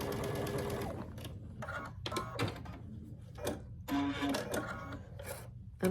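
Sewing machine stitching quilt squares right sides together, a short run of motor whir at the start, then intermittent bursts and clicks separated by quiet gaps.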